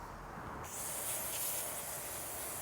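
A steady hiss of aerosol cleaner sprayed onto a Stella two-stroke scooter carburetor, starting after a brief pause and continuing evenly, close and fairly loud.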